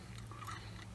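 Someone bites and chews a Jersey Mike's sandwich close to the mic, a faint, brief moist crunching and mastication over about a second with no speech.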